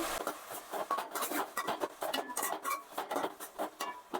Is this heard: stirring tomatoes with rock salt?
yes